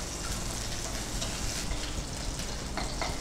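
Ingredients frying lightly in a pan give a steady, even sizzle with faint stirring scrapes throughout, close and unbroken, with no talking.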